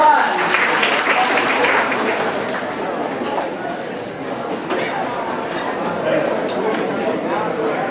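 Audience applause at a forum session breaking for lunch, a broad steady wash of many hands clapping with a busy room's clatter and murmur mixed in, sustained for several seconds without clear fading.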